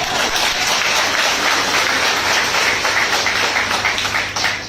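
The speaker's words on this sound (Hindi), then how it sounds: "बहुत बढ़िया, जोरदार तालियां।" Dense, continuous applause and clapping from a large audience at a business association event, a loud steady wash of claps lasting throughout with no break.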